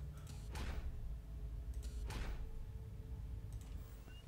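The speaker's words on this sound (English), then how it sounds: "Oh, doors!" Doors in a horror video game sliding open, two rumbling whooshes about a second and a half apart over a low steady ambient drone, with a fainter third movement near the end.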